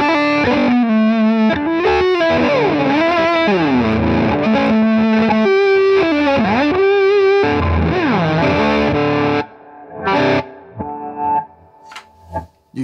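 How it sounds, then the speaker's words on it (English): Electric guitar, a Gibson ES-335 through a Line 6 Helix, played with a psychedelic reverse delay that makes swelling, backward-blooming notes with warbling, modulated tone, loud and continuous, then thinning into sparse swells near the end. "the reverse delay is for moments where you want to get really psychedelic"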